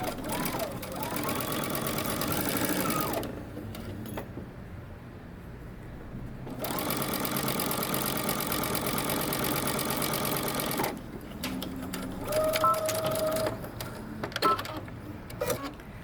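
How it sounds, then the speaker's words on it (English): Sewing machine back stitching across a skirt seam 3/8 inch in, running in two sustained steady whirring bursts with a pause between, followed by lighter stop-start stitching near the end. "Okay, so we're going to back stitch."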